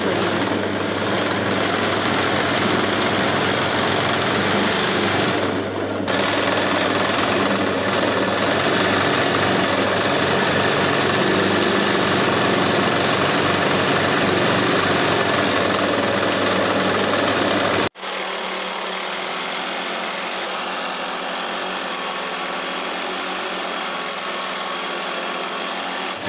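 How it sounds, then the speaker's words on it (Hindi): A picot sewing machine hemming a salwar runs with a loud, steady mechanical whir and buzz for about eighteen seconds, then cuts out, leaving a softer background hum. "ये पीको की मशीन हमारे पास है और इसमें हमें पीको करनी है"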